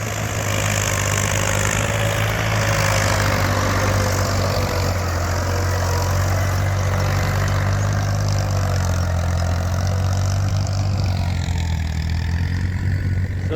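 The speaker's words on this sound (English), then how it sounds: "So we have two tractors." A farm tractor engine runs steadily nearby during field preparation before planting season. It makes a loud, continuous low throbbing drone with a rough mechanical rumble, holding constant throughout without speech.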